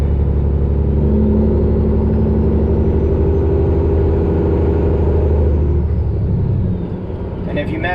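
A heavy truck engine with a 10-speed transmission rumbles loud and close, its revs climbing and then easing as gears are shifted, before the drone settles lower near the end.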